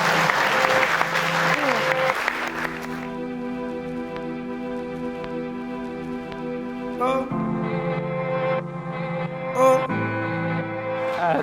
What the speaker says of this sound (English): So a massive round of applause for Mum and Dad